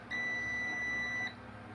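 A multimeter in buzzer mode gives a single steady electronic beep, high-pitched and continuous, holding for about a second before cutting off, leaving quiet hum behind.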